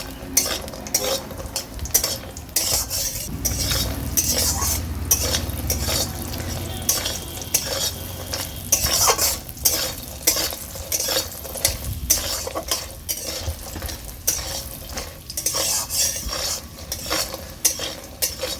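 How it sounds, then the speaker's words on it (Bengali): Lentil dumplings (dal bori) fry in hot mustard oil while being turned, making a continuous close sizzle broken by rapid, rhythmic spatula scrapes and clinks against the pan. "ডালের বড়িগুলোকে লাল লাল করে আমি ভেজে নেব।"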